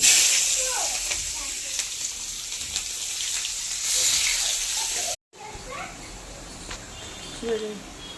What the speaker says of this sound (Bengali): পেঁয়াজগুলো দিয়ে দেবো।